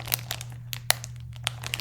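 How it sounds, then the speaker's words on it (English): A pink bubble-wrap mailer being torn open by hand gives off close, irregular crinkling and crackling bursts with sharp plastic snaps, set against a low steady hum. "Came in this nicely packaged little pink bubble wrap."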